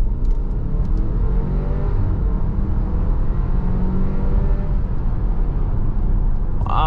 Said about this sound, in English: we'll mash the throttle and see how fast we can get up to 60